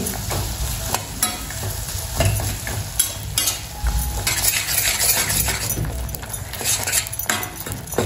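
Chopped jaggery melts in ghee as it is stirred in a pan for steamed modak. A spatula scrapes and clinks against the pan in a steady rhythm over a constant close sizzle, with no voices.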